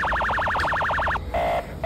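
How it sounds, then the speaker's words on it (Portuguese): A loud, close police siren wails in a fast up-and-down warble, then shifts to a steady tone with short breaks. "Sirene de polícia?"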